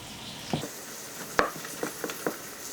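Corn is stirred into cornbread batter in a bowl, with a few soft, wet scrapes and knocks of the spoon over a quiet background.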